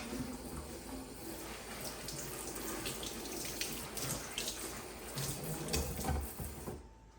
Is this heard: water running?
yes